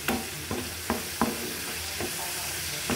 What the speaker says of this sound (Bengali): এই যে আমি পেঁয়াজটাকে ভেজে নিচ্ছি।